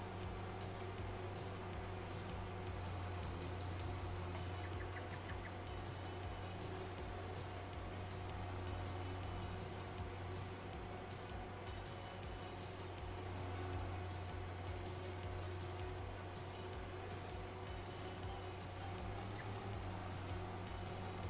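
Tractor engine in Farming Simulator 25, a steady low droning hum with constant mechanical whir, held at an even level throughout with no voices.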